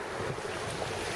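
Strong southwest wind blows steadily on a sailboat at sea, a continuous broadband rush with microphone buffeting and the wash of waves beneath, no voices.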